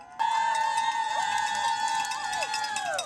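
A crowd cheers at a pink-themed street event at the corner of East State Street and East Park Drive, with sustained, wavering whoops and voices holding steady and close for about three seconds.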